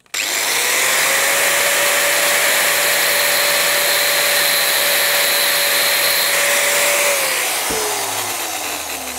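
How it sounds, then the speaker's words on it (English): An angle grinder spins up sharply and cuts into a metal O2 sensor with a loud, steady high whine for about seven seconds, then its pitch drops as it spins down, heard close and alone. "Now I presume I can cut it with a grinder."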